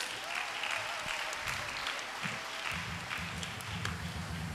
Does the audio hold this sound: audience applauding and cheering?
yes